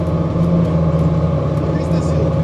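A Kirpi MRAP armored vehicle rolling slowly at around 30–35 km/h, a loud steady engine drone and low rumble heard from inside, with someone talking over it.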